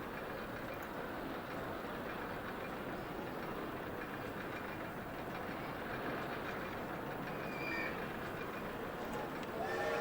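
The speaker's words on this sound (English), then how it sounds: "I don't think I made this miniature railroad anything good." A miniature railroad train ride in a theme park building game runs as a steady, continuous rumbling clatter with a faint beep near the end, holding an even loudness for the whole stretch.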